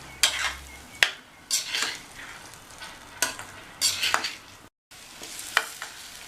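Boiled baby potatoes being stirred into a sizzling, frying gravy in a pan, with repeated scraping spoon strokes over a steady close-up sizzle and a brief gap in the sound near the end.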